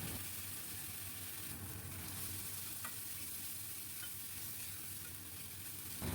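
Raw mango paste sizzles steadily in a hot pan with nigella seeds while being stirred for a mango and rohu fish curry; a continuous, close, even frying hiss runs throughout with no voices.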